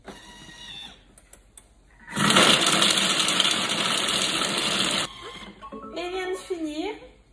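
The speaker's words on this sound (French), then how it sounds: "on va mixer 1 minute 30, vitesse 5. Écoutez, ça va être fort." Food processor blending apples for sorbet at speed 5, a loud steady roar of about three seconds in the middle, with talk before and after it.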